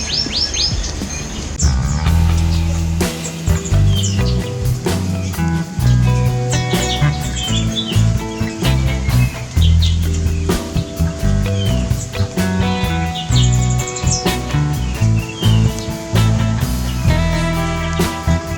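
Calls of a black-naped fruit dove (Ptilinopus melanospilus) set among a busy chorus of bird chirps and tweets, repeated clear notes and trills running throughout over soft watery background sound.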